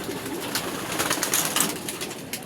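Pigeons being fed coo and flutter in a steady, close cluster, their soft calls and wing rustles blending into a continuous busy bed of sound.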